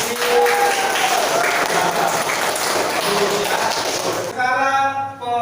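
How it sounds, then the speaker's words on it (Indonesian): A class gives applause for two students, a continuous wash of clapping throughout, with a teacher's voice coming in near the end. "Oke, beri tepuk tangan untuk Bisa dan Bibi"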